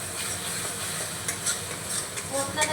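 Spice paste with coriander powder and salt stir-fried in a pan, a soft continuous hiss with a few light scraping stirs close by.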